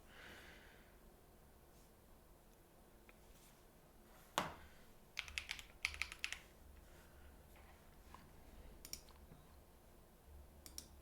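Quiet tapping of a laptop keyboard as a short two-factor code is typed, a handful of light clicking keystrokes in a small cluster amid faint room noise and soft breathing.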